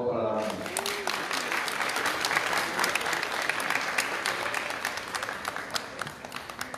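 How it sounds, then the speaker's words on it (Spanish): A crowd at a university anniversary ceremony in Zamora, Michoacán, applauds the band with a thick wash of clapping that begins after brief talk and holds steady, moderately loud, throughout. "Fuerte aplauso, por favor, para la banda."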